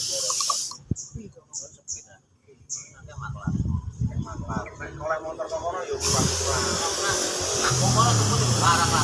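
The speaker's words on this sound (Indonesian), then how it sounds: "Nah, kurang lebih 3 kali semprotan seperti ini." Aerosol spray paint hisses in a few short bursts onto a roadside cat statue, interleaved with clicks and handling sounds, then a longer steady spray near the end.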